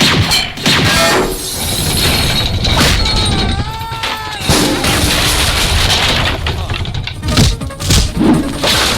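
Gunfire sound effects from a scene in the Hindi comedy film Hungama: several loud, sharp bursts break through a busy mix of music and voices, with people talking throughout.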